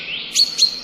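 A single bird gives two sharp, close chirps in quick succession, rising out of a faint high whistling tone against an otherwise quiet background, with no voices.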